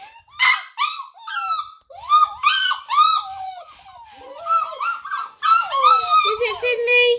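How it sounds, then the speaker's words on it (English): Springer Spaniel puppies about seven to eight weeks old cry and whimper, with high, wavering whines and yelps overlapping almost continuously, close and fairly loud, and no talking. "puppies are being separated off, learning a bit of independence and allowing them to cry a little bit"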